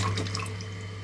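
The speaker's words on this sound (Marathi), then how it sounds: "चांगले स्वच्छ धुवून घेऊया" Running water splashes steadily in a sink as roasted peanuts are rinsed under it, with a constant low hum in the background.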